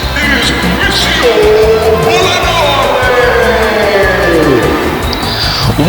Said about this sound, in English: you heard the reaction from the crowd